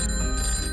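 A telephone rings in a short bright electronic trill that holds steady for under a second, close and clear with no voices.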